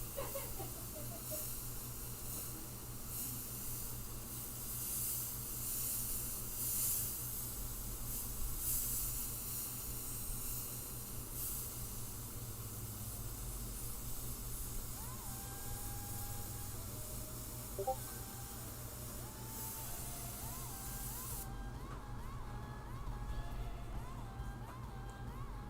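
An airbrush sprays paint onto black shirts, a continuous close hiss lasting the whole stretch that cuts off sharply near the end, with faint background sounds underneath.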